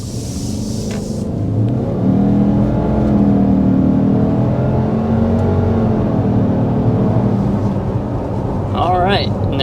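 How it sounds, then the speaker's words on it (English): A 2024 Subaru Ascent's 2.4-liter turbo four-cylinder pulls under hard acceleration toward 60 mph, a steady droning engine note rising in pitch, heard from inside the cabin with a brief voice at the end. "we want to go ahead and start with a hard acceleration"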